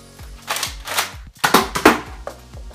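A Nerf Rampage blaster fitted with a Triad mod fires in a quick series of sharp plastic snaps and clacks, loud and close, with no talking.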